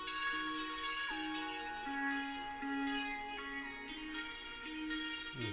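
A synth lead melody opens an FL Studio beat made with Maschine, aiming for a chorus-like sound, with sustained gliding notes over a steady low backing and no talking.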